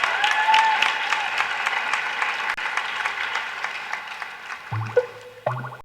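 An audience keeps applauding after a speech at a student fossil-fuel divestment event, a steady spread of clapping that tapers off as a voice begins speaking near the end.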